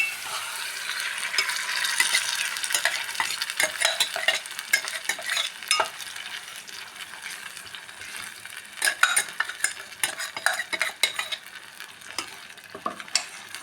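Ground spice paste, blended earlier in a mixer, sizzles loudly in a pan with curry leaves for a fish curry while a utensil stirs it in repeated scraping strokes. No one speaks.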